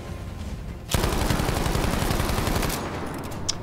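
Rapid automatic gunfire from a Battlefield V Breakthrough match bursts in suddenly and rattles on loud and continuous for nearly two seconds, then fades into softer background battle noise.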